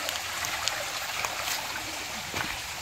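Spring water on a farm flows and trickles steadily, a continuous close splashing stream with small gurgles and no speech.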